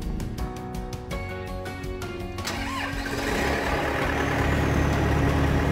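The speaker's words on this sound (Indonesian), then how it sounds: "Selanjutnya, nyalakan eskavator yang akan ditolong." An excavator engine cranks over with rapid starter pulses, then catches and settles into a loud, steady diesel rumble. It is heard close up after its battery was jump-started.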